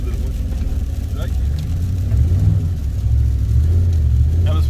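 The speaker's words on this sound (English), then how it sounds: "Take it sideways, please. Do a little drift." Car sliding sideways on a snowy road during a blizzard, its engine rumbling low and close and rising as it revs, with a voice talking over it.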